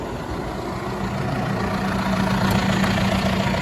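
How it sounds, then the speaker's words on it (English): A heavy diesel tractor engine idles with a steady low rumble, rising slightly in intensity partway through as it is run up to speed for a Weaving RS6000 seed drill; no voices. "run the engine up to speed"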